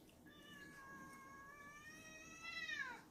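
A stressed cat being wrapped burrito style lets out one long, drawn-out meow that rises and then bends downward at the end, faint and alone against a quiet background.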